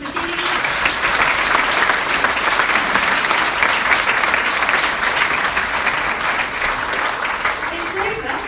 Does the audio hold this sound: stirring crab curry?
no